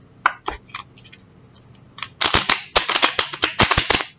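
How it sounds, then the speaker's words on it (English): Tarot cards being shuffled, sparse crisp flicks at first, then a rapid run of sharp riffling snaps and card slaps, close and clear. "Spirit said do one more shuffle. Okay. One more mix."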